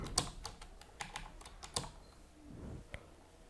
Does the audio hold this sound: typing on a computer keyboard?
yes